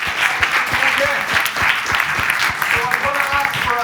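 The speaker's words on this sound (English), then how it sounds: "Big round of applause, please." Audience applause at a Creative Brain Week 2023 conference session: close, distinct hand claps within a lively round of clapping from the room, with some chatter beneath.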